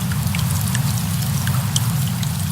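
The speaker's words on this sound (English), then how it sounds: "rains nearly all the time up here, giving the sun pitcher a problem." Steady, dense rain pours down in a wet highland habitat of sun pitcher plants, a loud continuous hiss with scattered droplet splashes.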